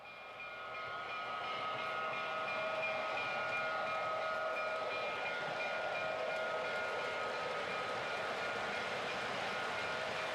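An MTH RailKing toy electric diesel locomotive with dual flywheel motors runs steadily, giving a continuous, even mechanical whir and hum with faint whining tones that hold throughout.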